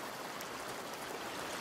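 A river flowing in the video game A Plague Tale: Requiem, heard as a soft, steady rushing of water, faint and continuous with no other sounds.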